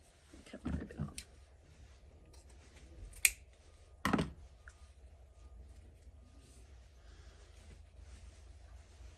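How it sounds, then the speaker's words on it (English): Scissors snip through ribbon on a boxwood wreath, giving a few sharp, close clicks with a brief rustle before them and quiet in between. "Cut my ribbon off."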